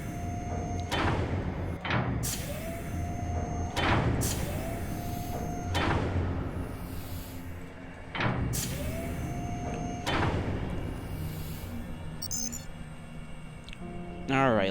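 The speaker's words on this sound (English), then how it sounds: "Open the door!" Doors in the game UnderRail slide and clank open several times in a row. The sharp mechanical bangs repeat every couple of seconds over a steady hum, with a voice talking in between.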